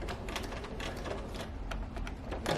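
A sewing machine runs in a steady rapid rattle, back-stitching the corner of a sofa slipcover. It stays close and fairly quiet, with no talking.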